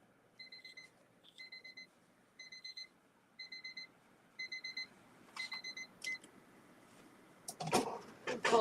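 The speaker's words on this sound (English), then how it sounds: "Oh, there's the timer." An oven timer alarm beeping in quick paired bursts, repeating at a steady pace for several seconds, then stopping as clattering handling noises follow close by.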